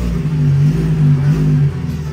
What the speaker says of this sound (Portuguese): Passa a marcha modo esportivo. Ó o barulho.